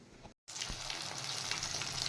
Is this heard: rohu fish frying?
yes